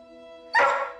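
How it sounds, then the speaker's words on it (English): A dog barks once, loud and close, a single sharp woof after a steady droning tone, part of a daily run of nuisance barking that has gone on for years. "Living with a daily barrage of barking"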